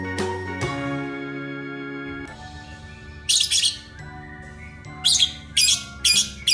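Parrot calls from an alphabet-song animal scene: several sharp, bright squawks and chirps in short bursts over a sustained musical backing, loud and close.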